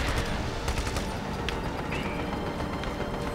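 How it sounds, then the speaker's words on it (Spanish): Gunfire in the open-world action game Just Cause 3, a dense continuous barrage of rapid shots and distant bursts over constant battle noise, steady and loud throughout. "Lo que sí me podría hacer daño son los disparos."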